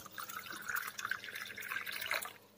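Water is poured into a pan for ghee rice, a soft, close trickling and splashing stream lasting a couple of seconds with no voices.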